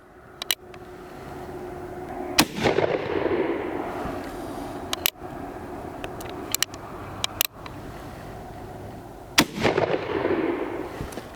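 Gunfire from a Remington revolving carbine, an Uberti replica rifle, at an outdoor range: a sharp shot near the start, then loud reports at about 2.5, 5, 6.6, 7.4 and 9.5 seconds, each with a booming echoing tail.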